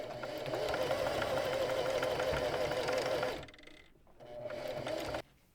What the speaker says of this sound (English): Stitch around the entire perimeter with a 1/2 inch seam allowance.